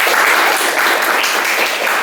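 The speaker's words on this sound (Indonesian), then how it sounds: "Tepuk tangan buat Gradia." Classroom students applaud a classmate, giving dense, loud, continuous clapping that fills the whole moment without a break.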